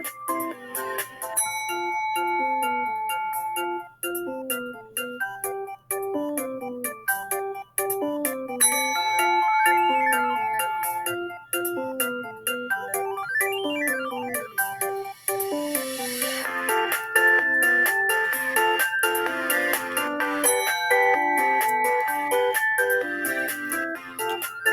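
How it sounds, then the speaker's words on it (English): Bright bell-like chimes ring out in a bouncy, repeating melody throughout, played as dance music for a kindergarten lesson, loud and continuous with no talking. "listen closely for the bell sound"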